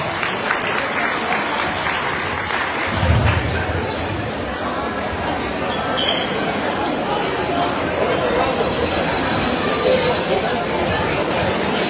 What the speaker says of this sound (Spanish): ¡Vengan, fuerte los aplausos para la reina de la fiesta!